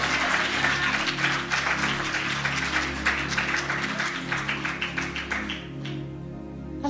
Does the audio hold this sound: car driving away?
no